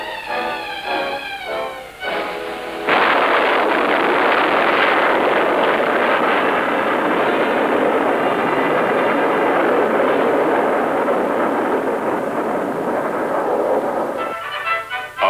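A Snark jet-powered pilotless intercontinental missile blasts off on rocket boosters, a loud, steady, close roar that holds for about twelve seconds after a brief tonal opening, then cuts off near the end.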